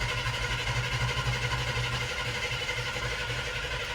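A new small-block Chevy 350 V8 cranks over for its first start, giving a steady, close, continuous mechanical drone with a faint rhythmic pulse and no talking.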